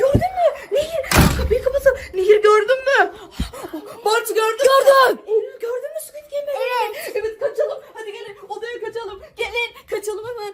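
A door is slammed shut with a sharp, heavy bang, followed by a second thud a couple of seconds later, while excited voices chatter and laugh loudly throughout.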